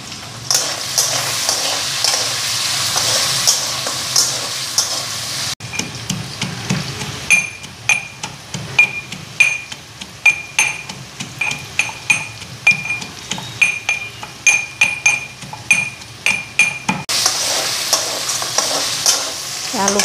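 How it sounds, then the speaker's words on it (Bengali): Potatoes frying in a pan and being stirred, a steady sizzle under repeated scraping and clinking strokes of a utensil against the pan, busiest in the middle stretch; no talking. "আলু ফ্রাই হয়ে গেছে"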